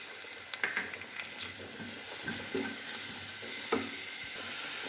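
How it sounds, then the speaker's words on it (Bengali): Onion paste sizzles steadily while frying in a pan, with scraping and clattering stirring strokes sounding close and clear throughout, no voices. "পেঁয়াজ বাটাটাকে ভালো করে নেড়ে চেড়ে নেব। এটা প্রায় ভাজা ভাজা হয়ে গেছে"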